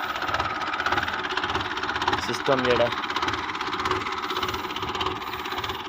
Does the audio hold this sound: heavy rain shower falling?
no